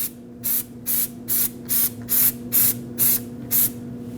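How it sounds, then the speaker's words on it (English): Anti-seize is sprayed onto the wheel hub of a 2005-2021 Nissan Frontier 2WD in about nine short, evenly spaced bursts of hiss, close and loud over a steady background hum. "make sure you coat this hub with some anti-seize"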